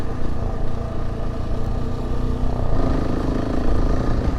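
A KTM 690 adventure motorcycle rides over rocky ground on the approach to mountains, its engine running steadily and close up throughout, with rattling and clatter from the rough terrain.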